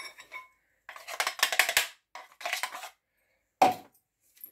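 Ground fenugreek seed powder being tipped into a dish, with several bursts of dry scraping and light metallic clinks of a spoon against a pan, separated by short pauses, close and fairly quiet.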